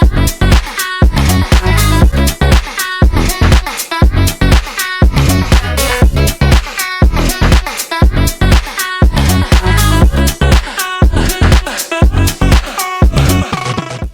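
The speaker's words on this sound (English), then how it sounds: "I'm automating the envelope follower's shift control to make the vocal get deeper through the track." A sung vocal line with automated formant shifting that makes it sound progressively deeper, sitting over a punchy, rhythmic beat with dense, loud, continuous instrumentation.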